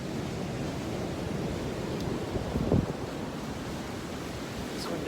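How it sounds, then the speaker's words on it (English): A waterfall roars as a steady broadband rush of falling water, close and constant, with a brief louder splash in the middle and no voices. "Just wanted to show you the waterfall again."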